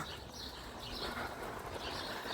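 Birds chirp and coo on an Easter morning on the Odesa seafront, faint high calls scattered over steady outdoor ambience.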